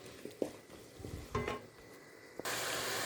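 Salted tomatoes sauté in a pan for a vegetarian liver fry, with a few utensil clinks and stirring scrapes, then a loud, steady sizzle bursts in toward the end.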